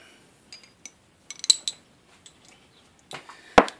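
Metal sockets from a socket wrench set clink and rattle as they are grabbed and handled, with sparse, sharp taps and a louder clatter at the end.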